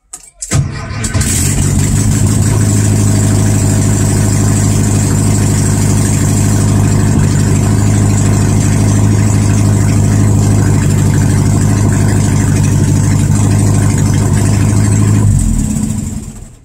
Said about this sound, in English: Let me press the gas real quick.